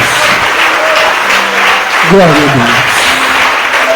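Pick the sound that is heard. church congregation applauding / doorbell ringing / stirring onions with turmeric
church congregation applauding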